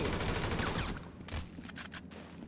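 Bursts of gunfire in the action video game GTA 5, dense and loud at first, then thinning into scattered shots and crackling impacts toward the end.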